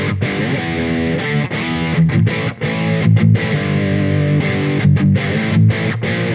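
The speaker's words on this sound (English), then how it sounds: "For the overdrive tones, we're going to be using a Freeman Dirty Shirley Mini" Overdriven electric guitar through a Freeman Dirty Shirley Mini amp miked with an SM57, reverb in the effects loop, playing loud sustained distorted chords and riffs with brief choppy breaks, no talking.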